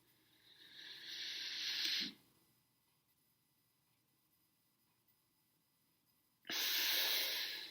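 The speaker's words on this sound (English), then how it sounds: "I did just a breathing exercise." Slow, deep breathing during a breathing exercise, a long inhale of airy breath, several seconds of near silence, then another strong airy exhale, close to the microphone with no talking.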